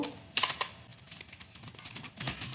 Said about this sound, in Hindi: तो जस्ट हम यहां पर ब्रीफ डिस्क्रिप्शन टाइप करनी है।